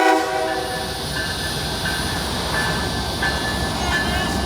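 A loaded phosphate freight train rumbles past at close range, loud and continuous, with the drone of its horn sounding throughout.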